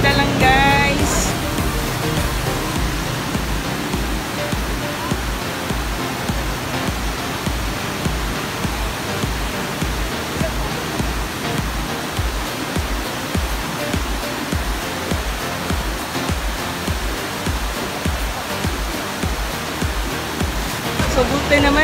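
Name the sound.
Aliwagwag Falls waterfall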